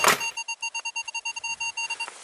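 Metal detector signal: a rapid run of about a dozen short, evenly spaced electronic beeps after a brief burst of noise, loud and close with no talk.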